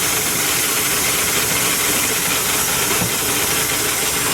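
An electric mixer on high speed creams butter and sugar for chocolate chip cookie dough, giving a loud, steady, unbroken whirring roar from start to finish.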